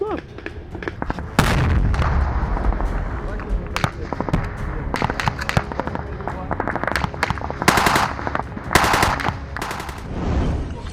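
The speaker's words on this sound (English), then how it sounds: "a Ukrainian machine gunner from the unit opened devastating fire" Machine gun fire on a Russian position in northern Ukraine, loud and close, with rapid bursts and sharp single shots over a constant rumble, and a voice talking underneath.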